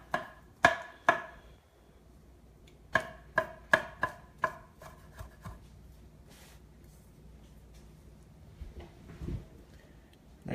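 Knife rough-chopping olives on a board, a close run of sharp separate knocks in an uneven rhythm, bunched in two groups, then softer handling noises, no voices.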